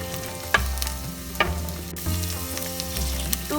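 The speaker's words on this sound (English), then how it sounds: "fry them for few seconds only" Onion half-frying in a pan for vegetable khichdi, a steady close sizzle with a few louder stirring scrapes, no talking.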